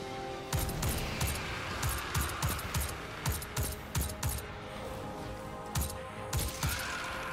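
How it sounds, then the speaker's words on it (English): Video game combat in Destiny 2 with a grenade going off close by, heard as a series of sharp metallic impacts and shots landing in a steady rhythm. "Oh, bollocks, I've just threw a grenade at myself."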